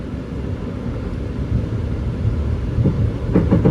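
Ranggajati executive train rolling unusually slowly near Sidoarjo station, heard from inside as a loud, steady low rumble, with a few faint rhythmic wheel clicks toward the end. No talking.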